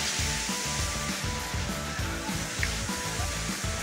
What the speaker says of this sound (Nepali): लौके झरना भने चाहिँ यही रहेछ